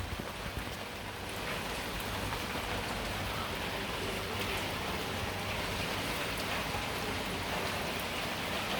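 Heavy rain pours steadily onto a camp during a thunderstorm, a dense, continuous hiss of drops close by, with no voices.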